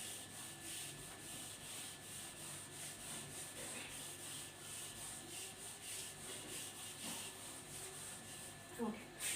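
An eraser rubs back and forth across a board in a continuous, brisk scratchy scrubbing that stays fairly steady and close, without a break.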